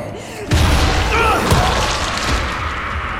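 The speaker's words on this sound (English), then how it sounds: "What is that explosion?" A booming explosion in the video game Dying Light, set in the Bright Mountain tunnel, bursts in loudly and then rumbles on under dense game noise, with a voice talking faintly nearby.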